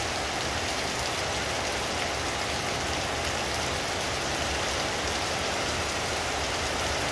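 Heavy rain pours steadily outdoors among loaded zapote fruit trees on a windy day, a dense, loud, continuous hiss with no voices.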